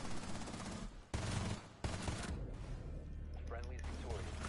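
Rapid bursts of automatic gunfire in a first-person shooter video game, loud and close, with sharp cracks repeating in quick strings and brief gaps between volleys.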